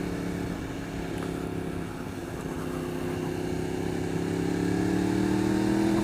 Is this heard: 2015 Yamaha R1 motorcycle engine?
yes